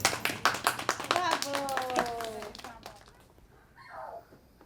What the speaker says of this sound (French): On peut s'applaudir, Papa?